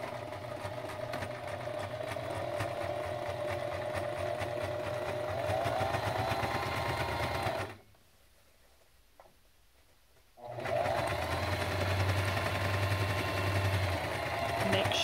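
A sewing machine stitches a fabric mask with a close, steady whirring hum, pauses briefly for about three seconds, then resumes stitching as it backstitches.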